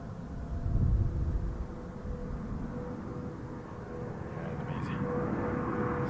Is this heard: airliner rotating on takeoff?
yes